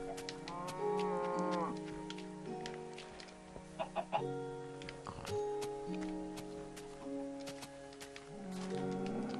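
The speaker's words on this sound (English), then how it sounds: "let's get these cows" Cattle in the video game Minecraft moo repeatedly in drawn-out, overlapping calls, with a few short clucks from fowl mixed in over a steady background.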